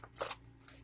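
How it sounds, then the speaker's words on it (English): Paper being cut into a lantern-shaped piece for handmade card making: a couple of quick, crisp snips close by, the loudest near the start and a softer one near the end. "I am just going to use it to cut out the lantern"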